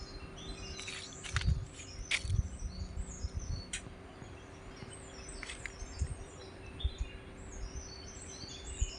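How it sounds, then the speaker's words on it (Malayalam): Scattered birds chirp and tweet in a forest, with short calls spread across the scene over a steady low hum and faint rustling, and no talk. "കിളികളുടെ ചില ചില ശബ്ദം"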